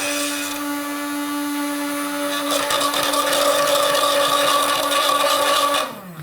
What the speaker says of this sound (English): And stick blender. Whiz those guys together.